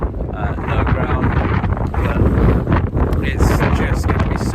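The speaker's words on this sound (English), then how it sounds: "It's just going to be so windy. Even now it's windy." Strong winter storm wind buffets a tent pitched while wild camping in Snowdonia, roaring steadily close to the microphone with gusts, and a person talks over it.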